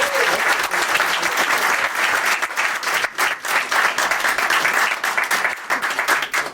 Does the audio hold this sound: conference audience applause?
yes